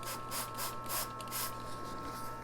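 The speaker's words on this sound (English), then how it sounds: "we're going to take our mister bottle, our spray bottle, and just take all the surface tension out of the bottom there" A handheld spray bottle mists water onto the soil of a willow leaf fig bonsai, giving a series of about five short, soft hissing spritzes in quick succession, close by over a steady low hum.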